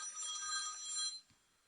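A telephone bell rings in a continuous trill for about a second, then cuts off, leaving near silence with a faint low thump.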